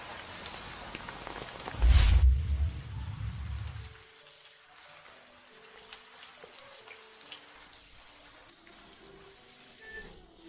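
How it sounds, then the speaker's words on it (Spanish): Heavy rain falls: a loud, dense rush of raindrops on a surface that swells for about two seconds, then cuts off into a quiet background for the rest of the clip. "No esperaba que lloviera tan fuerte de repente."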